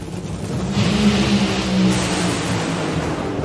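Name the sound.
Nitro Funny Car drag race run at Northwest Nationals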